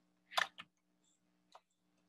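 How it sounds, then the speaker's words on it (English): A few faint, sharp clicks in near silence: a quick double click, then a single click a second later, like a computer mouse being pressed. "A mouse click."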